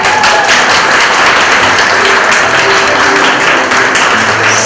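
An audience at a ceremony applauds for Kenneth with steady, dense clapping that holds at an even level throughout.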